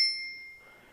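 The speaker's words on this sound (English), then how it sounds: "It does have a bell" A single bright ding from the bell on an Isinwheel U5 electric bicycle, struck once close up and left to ring out and fade within a second.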